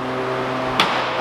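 A BMW M140i pulls off a dyno after a power run, its engine note rising briefly with a sharp burst and a second smaller rise near the end, close and fairly loud.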